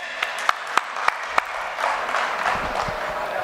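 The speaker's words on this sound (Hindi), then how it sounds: "तालियों के गड़गड़ाहट से उन लोगों का धन्यवाद करो जिन्होंने स्पॉन्सरशिप दिया" Audience applause at a large sponsors' conference meeting: a few separate sharp claps at first, then a broad, steady wash of clapping from a crowd spreading through the hall, moderately loud with no speech over it.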